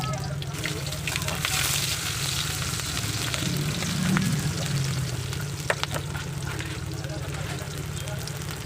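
Garlic sizzles and fries in hot oil, the start of a pork chop adobo, making a steady crackling hiss throughout with a few stirring clatters while someone talks over it.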